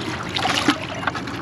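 Water scooped or poured during a fishing trip, a close, brief splashing trickle with a slightly louder slosh partway through, heard alone without talk.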